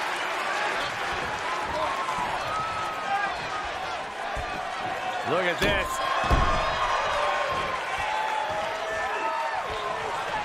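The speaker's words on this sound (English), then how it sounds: "And this crowd's starting to pick up, Michael." A virtual wrestling arena crowd in WWE 2K20 swells with cheering and applause behind steady commentary, with thuds of ring action cutting through midway.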